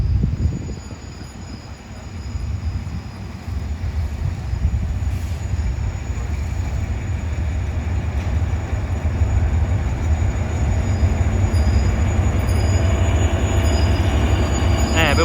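A Hitachi-built diesel local train, number 445, rolls past on Thailand's southern line. A loud, continuous rumble of wheels on rail is heard close by, with faint wheel squeal and a few brief voices in the background.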